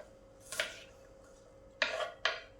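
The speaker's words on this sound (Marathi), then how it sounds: "ॲपल कट करून घ्यायचे. अगदी बारीक करायचे आहे कट." A knife finely chops an apple for a salad, making three soft, close thunks against the board: one single cut, then a quick pair after a pause, in an otherwise quiet kitchen.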